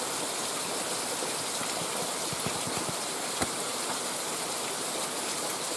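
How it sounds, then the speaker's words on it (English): Steady rain during a rainstorm on the Appalachian Trail, a continuous even hiss of falling water close by, with a few faint taps and one sharp knock partway through. "Random rainstorm. It happens out here."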